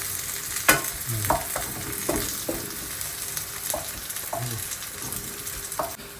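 Curry leaves and masala sauté in a pan for prawn curry, with an even, close sizzle punctuated by a series of spaced spoon scrapes and taps.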